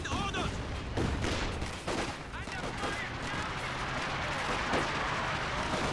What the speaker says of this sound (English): And now we have a not so cheeky land mattress barrage.